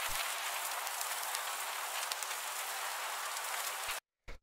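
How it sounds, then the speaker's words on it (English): Layered noise samples from an industrial techno track form a dense, loud hiss like heavy rain that holds steady for about four seconds, stops dead, and returns with a brief burst at the end. "After that, we have the noises,"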